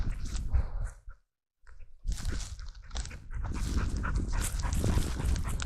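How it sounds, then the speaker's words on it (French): A large dog of about 35 kilos pants steadily and close by outdoors on a walk, its breathing continuous apart from a short pause, with no talking. "C'est un amour ce chien."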